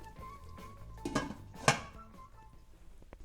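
A lid clanks back onto a cooking pot of simmering Italian tomato sauce, one sharp metallic knock standing out from a softer clatter just before it, with quiet kitchen background and no talking.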